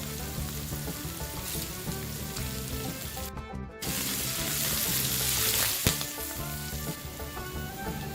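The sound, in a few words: fennel, fenugreek seeds and curry leaves frying in wok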